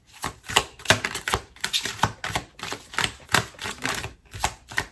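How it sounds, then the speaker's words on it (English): Tarot cards are shuffled by hand in quick, rhythmic riffling bursts, crisp and close, with no one talking. "One more shuffle, Capricorn."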